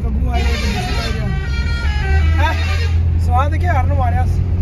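Several melodic vehicle horns honk in rising and falling patterns over loud engine rumble, close by, with voices mixed in, in Jhelum.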